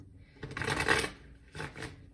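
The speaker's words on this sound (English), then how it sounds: "That's what I'm sort of feeling as I shuffle." Tarot cards are shuffled in two soft, brief riffling bursts, quiet and close, with a short pause between them.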